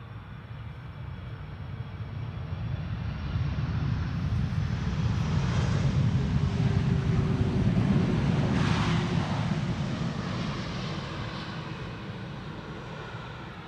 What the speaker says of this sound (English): KLM wide-body pilots usually roll out with idle reverse thrust, keeping up the speed, leaving all the moisture.